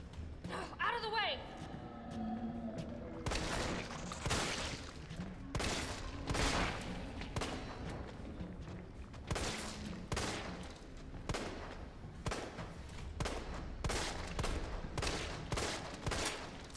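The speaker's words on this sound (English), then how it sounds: "Don't know why I'm shooting the power head with a pistol" Pistol shots in Resident Evil 3's underground lab, fired singly at a steady spaced rhythm over the whole stretch, each a sharp crack, while a voice talks throughout.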